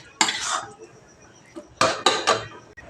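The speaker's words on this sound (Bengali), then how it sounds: "আমি কড়া থেকে একটা গামলার মধ্যে তুলে নিচ্ছি" Cooked mixture transferred from a wok into a bowl in a home kitchen, with a metal spoon scraping and clinking against the pan in a burst, a short pause, then several quick scrapes and knocks close by.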